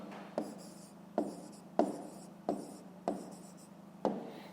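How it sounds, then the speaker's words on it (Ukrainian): Pen strokes on paper as a math answer is written down, six distinct scratchy bursts at a steady pace, close and quiet with no voices. "Ну, а тепер записуємо відповідь."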